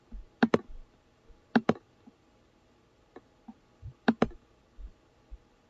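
Computer mouse clicks while editing text in Microsoft Word: crisp, close double clicks in three quick pairs, plus a few softer single taps in a quiet room.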